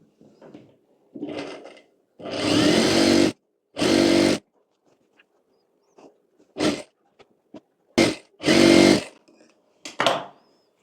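A sewing machine stitches a katori blouse in short separate runs, each a loud mechanical whirring burst lasting a second or less, with quiet gaps and small handling clicks between them.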